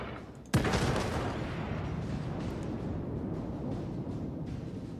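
Battleship main guns firing in World of Warships, one sudden heavy boom followed by a long rumbling roar and distant lower thuds that fade slowly.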